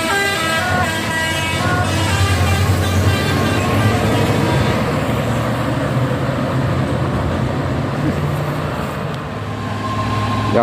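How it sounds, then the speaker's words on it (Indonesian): An orange Fuso truck passes on the Bukit Kodok hill road, its loud engine drone mixed with tonal horn toots early on, the roar staying close and steady before easing slightly. "Ya ini ada truk Fuso"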